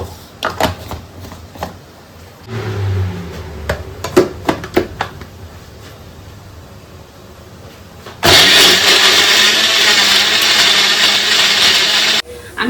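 An electric blender grinds Everest biryani masala with Kashmiri chilli powder into a paste. After scattered clicks and knocks of setting it up, the motor kicks in loudly and whirs steadily for about four seconds, then cuts off.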